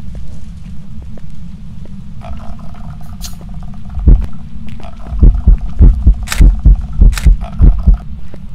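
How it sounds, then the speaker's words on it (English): Ghost heartbeat sound in the horror game Phasmophobia: a low droning background, then from midway a run of loud, deep rhythmic thumps repeating roughly every half second, with faint squeaky tones layered above. "I heard heartbeats."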